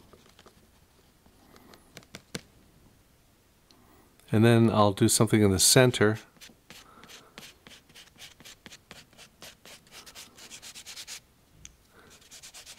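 Carbothello pastel rubbing and scratching on paper during painting, heard close as soft ticking strokes and a louder burst of dense scraping in the middle, with a person speaking briefly over it.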